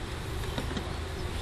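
Honey bees buzzing at an opened hive, a dense steady drone of many wings close up, filling the whole short moment with no voices.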